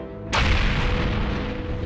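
Artillery cannon fire in an animated battle: one sudden deep boom that rolls on into a sustained rumble, loud and close.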